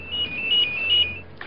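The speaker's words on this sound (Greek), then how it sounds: "μάλλον μάθανε ότι είσαι εδώ και σε παίρνουν τηλέφωνο." A phone ringtone sounds for an incoming call, a steady repeating electronic melody that plays continuously for about a second and then stops.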